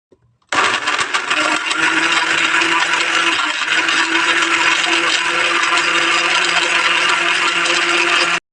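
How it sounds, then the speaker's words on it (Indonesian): A blender whirring fresh pineapple until smooth starts abruptly and runs at a loud, steady high-pitched roar for about eight seconds before cutting off. "Di blender hingga halus."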